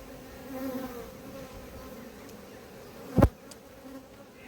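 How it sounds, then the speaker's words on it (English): Honeybees buzz in a continuous close drone around a beekeeper at an apiary hive, a few bees crawling on the veil, with one brief sharp knock near the end. "I've got at least 4 bees on my visor at the moment"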